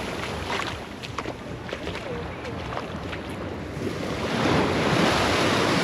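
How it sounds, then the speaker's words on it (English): Ocean surf on a Trinidad and Tobago shore rolls and crashes without pause, a loud, full wash of waves that swells toward the end, with wind buffeting the microphone. "I just like listening to the waves crash"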